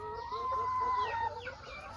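Chickens in a remote Thai village cluck and croon close by, with one drawn-out rising-and-falling call over steady low background noise and softer clucks around it.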